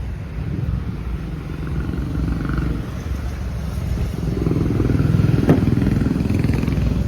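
A Royal Enfield Himalayan 450 engine idles nearby with a steady, low, throbbing rumble that swells slightly in the second half, alongside a brief click.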